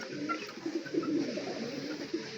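Two-month-old chicks give soft, low, fluttering calls in quick, uneven bursts, close by and fairly quiet.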